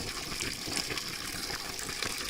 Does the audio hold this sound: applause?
no